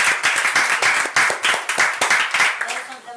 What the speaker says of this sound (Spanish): demos un aplauso a Dios por este milagro más